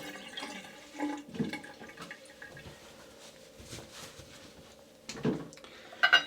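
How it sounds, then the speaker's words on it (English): Running water as hands are washed at a sink, a steady faint rush with splashy bursts and small drips, heard alone without talk. "I'm going to wash my hand really quickly."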